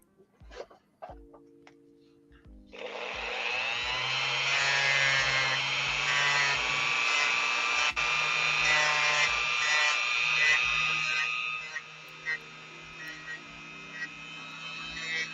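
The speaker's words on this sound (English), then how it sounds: "Dremel off the head of that" A Dremel rotary tool grinds off the head of a pin on an action figure, a close high-pitched whirring whine that starts after a few quiet clicks and holds steadily for about nine seconds before tapering.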